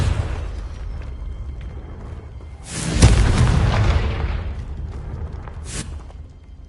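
A Confringo fire spell from the video game Hogwarts Legacy bursts into a loud, booming explosion partway through, with a rumbling roar that swells and then fades over steady background ambience, followed by a second brief burst.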